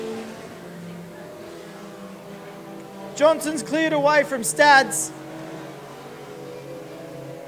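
Junior sedan race cars roar past on a circuit, a sharp rising-and-falling engine whine that builds suddenly mid-stretch and fades away, with a race commentator talking over the low background hum.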